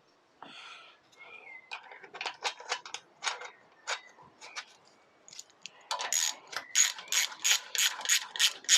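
Ratchet tightening 10mm bolts on the oil tank of a Yamaha TZR125 motorcycle, rapid close clicking strokes in short bursts, ending in a faster, louder run of ratcheting.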